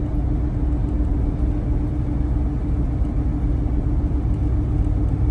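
A car on a winter road in Northwest Indiana hums with a steady low interior rumble of engine and tires, constant and fairly loud, with no talking.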